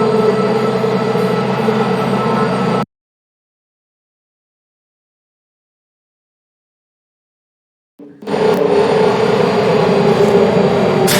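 A lift travels through a test facility in the Portal Stories: Mel video game, giving a loud steady mechanical rumble and whir that cuts to silence for several seconds, then resumes abruptly at full strength.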